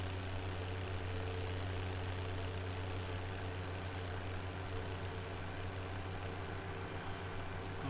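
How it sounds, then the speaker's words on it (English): A tractor engine in a farming simulation game runs at a steady, low droning rumble with a constant hum and no change in pitch, with no voices over it. "We're going to bring our tractor over here and start from this end"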